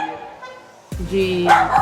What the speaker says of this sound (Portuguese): Ela late para todos os youtubers